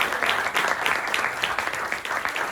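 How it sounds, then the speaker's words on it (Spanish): Steady applause from an audience at a film presentation, dense continuous clapping filling the room at moderate volume with no talk over it. "pero primero un aplauso"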